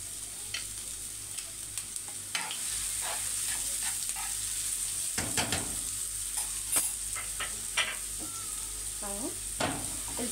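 Chopped onions hitting hot oil in a pan for Alexandrian-style liver, a loud close sizzle with repeated scraping and stirring clatter, steady over the whole stretch.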